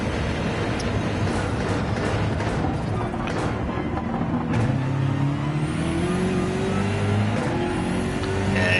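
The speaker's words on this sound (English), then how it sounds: "the big BMW is getting the draft" Race car engine of a big BMW in a racing video game, a steady loud drone holding throughout with rising whine tones as it pulls in the draft behind another car.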